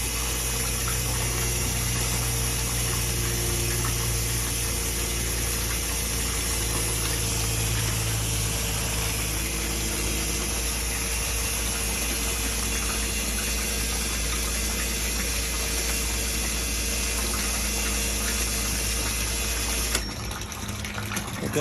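A sewage lift station pump hums and churns steadily with a low mechanical drone and rushing water, running continuously for about twenty seconds before abruptly shutting off, leaving quieter background.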